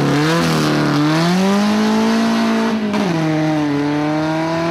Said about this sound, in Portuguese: E os carros barulhentos vêm chegando.